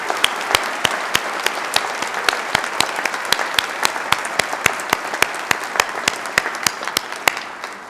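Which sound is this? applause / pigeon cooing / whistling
applause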